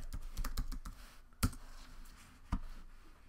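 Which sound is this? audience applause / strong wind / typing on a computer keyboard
typing on a computer keyboard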